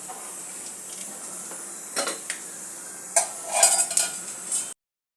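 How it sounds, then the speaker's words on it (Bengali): Peanuts frying in a wok: a faint steady hiss with scattered metallic clinks and scrapes from a utensil that grow busier toward the end, no voices. "প্রথমে আমি একটু বাদামটা ভেজে নিলাম, একটু ভেজে নিচ্ছি।"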